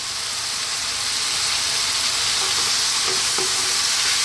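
Goat curry with garam masala sizzling and frying in a pan as it is stirred, a steady close hiss with a few soft scraping clicks near the end.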